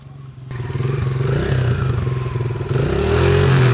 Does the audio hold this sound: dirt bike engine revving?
yes